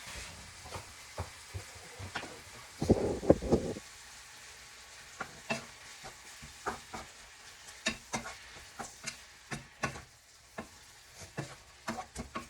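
Shrimp sizzling in a sauté pan, a quiet steady crackle punctuated by many small pops and clicks spread across the whole stretch, with a brief louder burst of noise early on; nearby and without speech.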